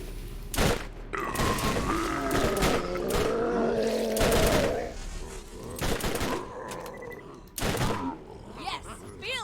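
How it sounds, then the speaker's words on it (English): An explosive sniper rifle firing in the Borderlands video game, with a handful of heavy booming shots spaced a second or two apart over continuous game noise and tonal effects. "Explosive sniper rifle."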